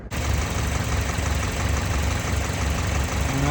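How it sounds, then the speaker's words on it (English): A Toyota engine idles steadily with the heater running on low at full hot while the cooling system is bled after a thermostat replacement, a loud constant rumble with no voices. "I'm gonna run the engine for a while, have the heater on low, all the way hot, and bleed out this system"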